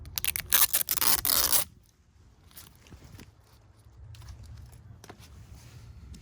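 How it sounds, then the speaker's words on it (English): Protective tape peeled off a smoked dual LED side marker for a 2016-23 Camaro, a loud, close, crackling rip lasting about a second and a half, followed by faint handling clicks and rustles. "Peel off its protective tape."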